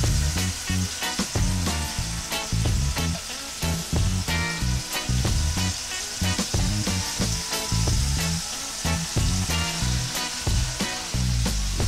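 Fish slices frying in a pan, a steady loud sizzle with crackling oil running continuously, no voices over it.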